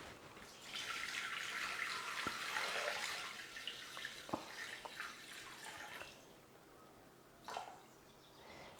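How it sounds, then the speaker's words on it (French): Water runs from a tap into a Thermomix mixing bowl while a Caesar salad is being prepared, a steady splashing pour that fades and then returns briefly with a faint drip. "Donc là, je vais mettre 500 g d'eau."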